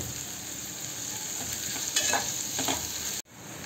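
Onion frying in a pan for tomato chutney, giving a loud, steady sizzle with stirring scrapes in the middle and an abrupt brief drop near the end before the sizzle resumes.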